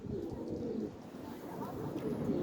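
Pigeons coo softly and continuously nearby, low throaty warbling repeating over a faint background murmur.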